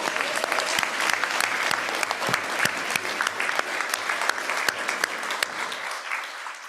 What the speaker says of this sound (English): Let's a round of applause for these four.